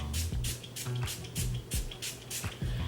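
Coconut water misted onto a face over foundation to blend makeup, a series of about six short, close spray bursts in a steady rhythm with soft wet drips between them, no talking.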